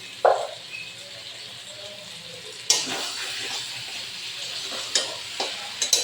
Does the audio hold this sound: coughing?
no